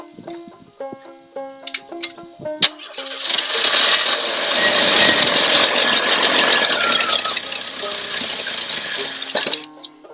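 A Jeep engine cranks on a cold, hard start, the starter grinding loudly for several seconds amid metallic clinks and knocks before and after; no speech is heard.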